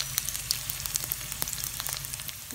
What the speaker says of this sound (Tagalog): Iprito natin siya.